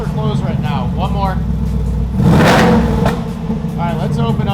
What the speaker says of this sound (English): Now do a rev. Cold. Valves are closed right now.